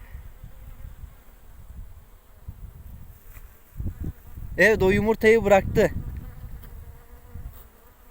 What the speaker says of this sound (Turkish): İşçi arılar da etrafına dolanıyor.